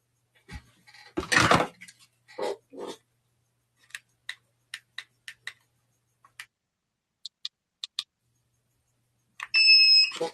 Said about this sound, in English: I'm starting a timer. It's my giant wall clock, so when I'm doing something, it has a timer.